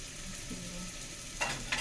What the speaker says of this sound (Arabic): هنا أنا حطيت معلقة سمنة. نعمل البصلة بتاعتنا